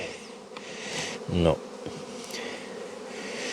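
Honeybees buzzing around hives in an apiary, a soft continuous drone throughout, with a brief spoken word in the middle.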